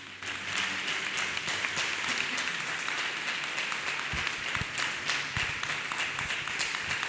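Congregation in church clapping hands in praise after a testimony, a sustained roomy patter of many hands with a few sharper nearby claps, moderately quiet and steady throughout.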